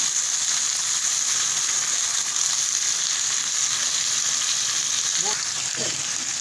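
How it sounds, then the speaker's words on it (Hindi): Potatoes fry and sizzle steadily in a pan, a loud continuous crackling hiss throughout with a couple of faint scraping stirs near the end. "इसको हम भून रहे हैं।"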